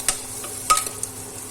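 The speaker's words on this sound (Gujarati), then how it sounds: "આ રીતના આપણે બધું હલાવીશું।" Vegetables and spices being stirred in a pan for a Gujarati long bean and potato curry, with a few scraping spatula strokes over a soft sizzle, close and alone.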